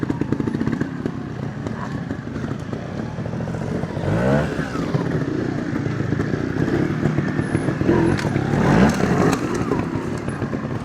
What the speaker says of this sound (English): I have upgraded from walking to a pit bike.